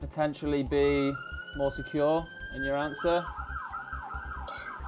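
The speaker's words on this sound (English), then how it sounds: "I'm so sorry if you can hear sirens in the background" Emergency vehicle sirens wail through an open window, the long rising and falling tones running under a close voice speaking throughout.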